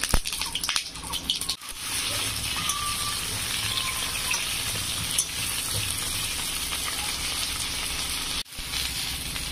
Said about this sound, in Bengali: এঁচোড়গুলো দিয়ে ভেজে নেব।